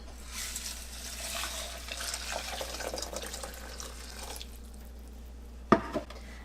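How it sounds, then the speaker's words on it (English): Two cups of water poured into a pot for homemade elderberry syrup, a steady broadband splashing stream running for several seconds, then tapering off, followed by a couple of sharp clanks near the end. "Now I'm going to add in 2 cups of water."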